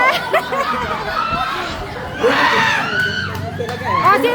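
Children shout and cheer together in a lively crowd at a seventh birthday party, with a loud burst of excited voices in the middle and chatter throughout.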